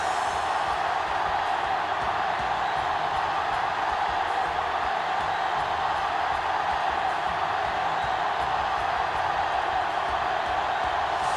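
A steady, distant wash of stadium crowd noise at an NFL preseason game between the Dallas Cowboys and Arizona Cardinals, an even murmur and hiss with no distinct cheers, under faint commentary.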